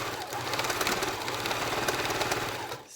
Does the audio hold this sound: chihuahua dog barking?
no